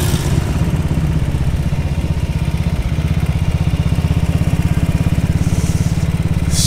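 A classic motorcycle thumps along at an unhurried lap pace at the National Motorcycle Museum, its loud engine pulsing steadily and rhythmically up close, with a brief rush of wind near the end.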